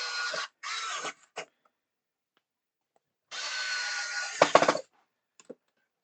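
Power screwdriver driving small screws into a part of a 1:16 scale Orca boat model from Jaws, in two short whirring bursts with a pause between, then a longer run ending in a few sharp clicks and taps.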